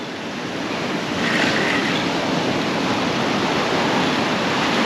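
Beach surf roars steadily along the shore where someone is fishing for mulloway, a loud continuous wash of breaking waves swelling slightly louder partway through, with wind buffeting the microphone.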